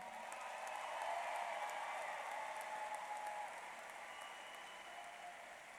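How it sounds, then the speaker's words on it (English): At a high school commencement, a graduation audience gives sustained applause, a dense, even wash of many hands clapping, heard from a distance and fairly faint. "let's give them that round of applause"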